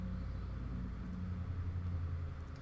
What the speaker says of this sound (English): now it's like become an everyday occurrence as these cars drive by